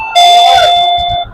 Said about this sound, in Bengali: এখানে একটা রিমোট, আপনি যদি রিমোট যদি চাপ দেন তাহলে বাজবে।